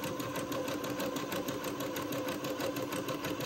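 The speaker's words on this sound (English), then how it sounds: "The zigzag just finishes off this seam nicely." A sewing machine zigzag-stitches a sleeve seam to finish the raw edge at the cuff, running with a fast, even mechanical chatter at steady speed, close and moderately quiet.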